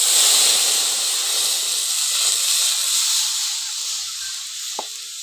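About 500 grams of cow's milk heats in a wok, hissing steadily and loudly like steam, then easing slightly toward the end with one faint tap.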